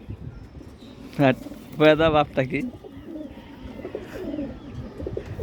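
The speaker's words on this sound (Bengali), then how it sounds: "এই সুন্দর একটা কবুতর, আমার বাসার মাদি কবুতর।" A female pigeon gives a couple of soft, throaty coos close by, with a person speaking quietly around them.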